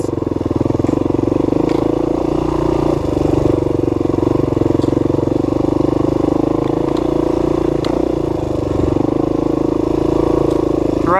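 A dirt bike ridden hard on Loop B of the Tomahawk Trail in Michigan, its loud, steady engine drone and clattering running throughout at close range.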